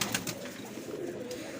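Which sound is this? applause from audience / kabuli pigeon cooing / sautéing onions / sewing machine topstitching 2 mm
kabuli pigeon cooing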